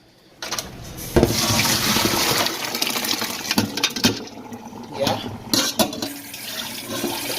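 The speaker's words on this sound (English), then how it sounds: "Okay, I'm going to wash out my rice." Raw rice is washed in a pot of water for native jollof rice, with sloshing, swirling splashes and grains rattling against the pot in uneven bursts, close and fairly loud, without speech.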